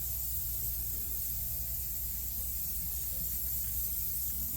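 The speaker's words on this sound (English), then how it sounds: "So we're spray painting everything." Black spray paint hissing steadily from a can onto plastic parts of work machines, a continuous even spray held close with no pauses and no voices.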